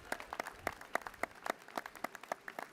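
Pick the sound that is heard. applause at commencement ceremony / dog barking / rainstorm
applause at commencement ceremony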